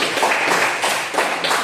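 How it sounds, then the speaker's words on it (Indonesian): Students in a geography class give a short burst of clapping, a dense and fairly loud patter that carries on evenly for under two seconds with no talking. "kita kasih tepuk tangan dulu"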